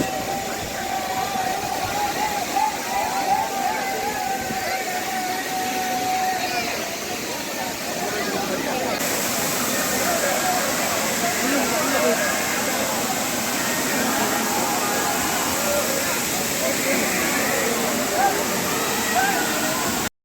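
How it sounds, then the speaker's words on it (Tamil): Thirparappu waterfall pours and splashes in a steady, dense roar of falling water that fills the scene without pause. "இந்த சைடு வேறு வந்து பார்த்திங்கன்னா செப்பரேட்டாக தண்ணி வேறு விழுந்துட்டு இருந்துச்சு"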